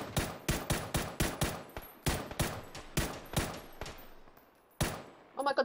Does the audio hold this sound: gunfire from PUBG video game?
yes